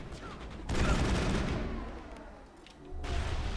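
Gunfire in Mass Effect, bursts of rapid rattling shots and low booms at moderate loudness, swelling and fading in waves, with faint talk underneath.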